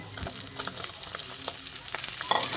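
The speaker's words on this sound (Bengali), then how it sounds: "রসুনটা ভাজা হলে এবার আমি এর মধ্যে পেঁয়াজটা দিয়ে দেব।" Sliced onion is frying in hot oil with garlic, giving a steady soft sizzle with scattered crackles and light stirring scrapes, close and fairly quiet, with no voices.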